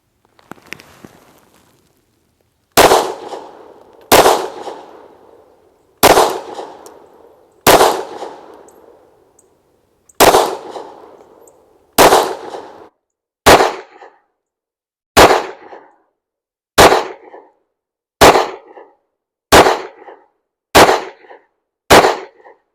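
Close-range shots from an IWI Masada 9mm pistol fired outdoors in the heat, about fourteen sharp, loud reports spaced one to two seconds apart with short decaying tails, coming faster toward the end, with no talking.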